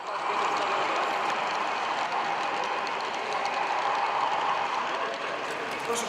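A miniature model train runs across a bridge on a modular exhibition layout, giving a steady, continuous rolling rumble with faint rhythmic clicking that holds at an even level throughout.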